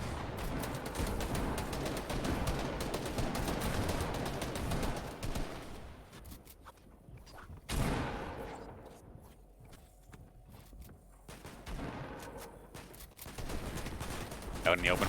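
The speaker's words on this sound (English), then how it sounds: "one person ready and waiting with a shotgun" Bursts of gunfire, including shotgun blasts, in a Fortnite Trios match, loud and dense at first, then sparser shots further off, with a commentator talking over them.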